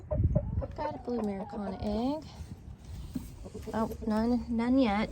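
Hens clucking in a backyard coop during farm chores, a series of close, wavering clucks and calls over someone talking briefly.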